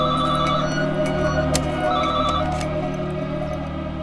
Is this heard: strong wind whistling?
no